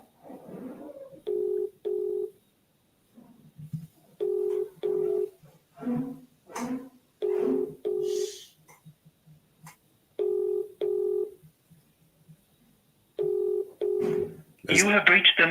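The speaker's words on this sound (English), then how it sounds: "It's ringing." An outgoing phone call rings back with repeated double-pulse ring tones, spaced evenly and heard close through the handset, with a voice talking briefly between the rings.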